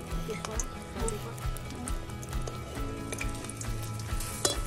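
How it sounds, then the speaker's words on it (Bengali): Chili chops, large green chilies halved and coated in gram-flour batter, fry in oil over a wood fire alongside battered eggplant fritters, a steady mid-level sizzle running throughout with some background clatter. "আর এই বড় লঙ্কাগুলো 2 পিস করে লঙ্কার চপ ভাজা হচ্ছিল"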